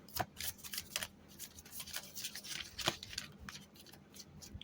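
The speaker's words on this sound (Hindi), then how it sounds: "2 बार मैं कार्ड्स को शफल करती हूँ।" Tarot cards being shuffled by hand, giving faint, close, papery riffles and soft flicks in quick irregular bursts.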